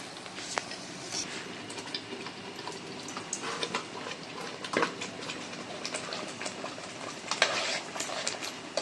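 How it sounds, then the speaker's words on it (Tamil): Masala with tomato paste is sautéed in oil, giving a faint, steady sizzle broken by light scraping and clinking stirs close by. "தக்காளி பேஸ்ட்டு எல்லாமே நல்லா எண்ணெய் தெரிஞ்சு வர வரைக்கும் எண்ணெயிலேயே வதக்கி எடுத்துக்கலாம்"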